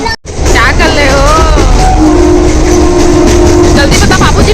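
A train at a railway station sounds loudly and close, with a steady rumble and a long sustained horn-like tone, and voices are heard faintly in the mix.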